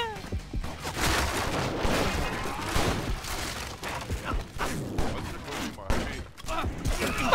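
Shotgun blasts in the video game Stranglehold, loud booming shots repeating through a dense, continuous firefight with other gunfire and crashing debris.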